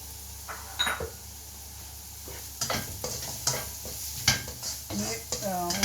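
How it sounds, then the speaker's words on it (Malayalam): Onions fry with a spoonful of sugar in a pan for egg fried rice, with a soft continuous sizzle broken by the scrape and clink of a spoon stirring several times. "ഉള്ളി ഒന്ന് ഫ്രൈ ആകുമ്പോൾ ക്യാപ്സിക്കം ഇട്ട് കൊടുക്കാം."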